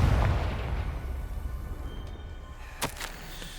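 A Confringo fire spell explodes in the game Hogwarts Legacy: a loud, low boom opens and rumbles away over a few seconds, then a sharp crackling burst hits near the end.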